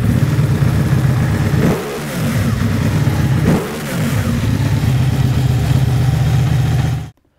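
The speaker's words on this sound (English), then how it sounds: "So the best part about the R is the noise it makes." A 2015 Ducati 1199 Panigale R superbike engine revs loudly up close, holding a steady high roar with two brief dips as the throttle is blipped before it cuts off abruptly.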